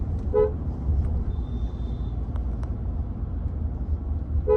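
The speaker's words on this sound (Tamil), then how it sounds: "இதோட ஹார்ன் சவுண்டுமே நல்லா இருக்குது" Two short, bright car horn beeps from a 2024 Mercedes-Benz GLA diesel sound at the start and end, over a steady rumble of the engine and road noise.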